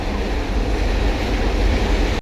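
A train rumbles along a bridge overhead above Modhu bathing ghat, a loud, steady, low-heavy roar that holds for the whole stretch and cuts off abruptly at the end.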